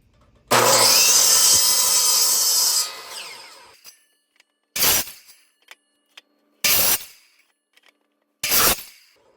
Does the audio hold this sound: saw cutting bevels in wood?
yes